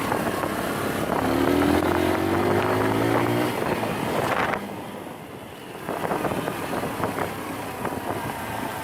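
A Kawasaki KSR TW 125 motorcycle rides along with a steady engine drone and rising harmonic whine as it pulls in gear, buffeted by wind noise, easing off briefly midway before picking up again.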